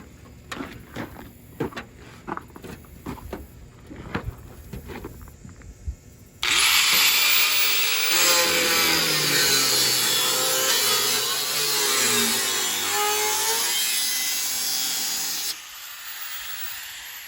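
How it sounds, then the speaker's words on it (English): A power tool cuts hinge slits into sheet metal on a minivan tailgate, a loud sustained harsh hiss and whine for about nine seconds after a stretch of scattered clicks and taps. "So I gotta cut those holes out."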